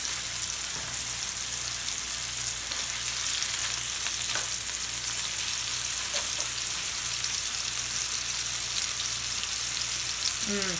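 Chicken shawarma frying in a pan, a loud, steady sizzle and crackle of spattering fat filling the whole stretch, close up, with occasional brief clinks and no talking.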